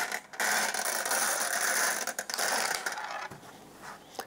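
Bingo ball machine in a kids' number game drawing the next ball, a steady rattling churn of tumbling plastic balls with clicking, ratchet-like mechanical texture, loud and continuous, easing off toward the end.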